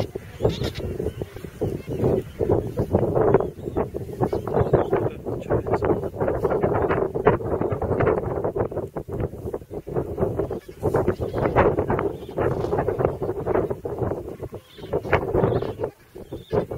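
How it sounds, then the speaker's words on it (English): Strong wind batters the microphone on Saunders Island in the Falklands, a loud gusting rumble that surges and fades in uneven bursts throughout, with no voices. "Too windy now."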